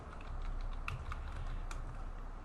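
Fast typing on a computer keyboard, a steady close patter of key clicks with a few louder taps over a low room hum, no voices.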